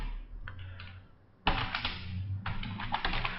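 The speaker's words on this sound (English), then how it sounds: "So we type the name and we put that here" A name being typed on a computer keyboard, heard as quick close clicks in two short bursts separated by a brief pause.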